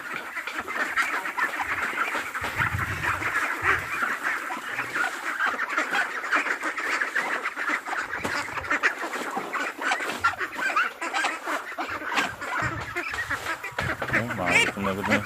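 Ducks quack and honk continuously in a steady noisy chorus while being fed duck pellets on a rural farm, with no talking over them.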